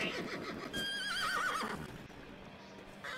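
A Morgan horse in the Roblox Wild West game lets out a loud, wavering whinny that rises and trembles, followed by quieter game ambience and a fainter snort.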